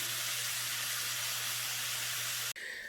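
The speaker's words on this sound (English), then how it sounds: "the flank steak has been cooking for about 6 minutes" Flank steak searing in a hot pan gives off a steady, even sizzle with an airy, hissing texture that runs unchanged until an abrupt cut near the end.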